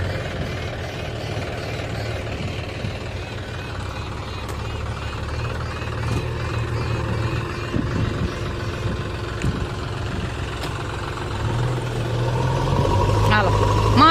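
A tractor engine runs with a steady low drone while pulling out another stuck tractor, growing a little louder toward the end, with people talking over it.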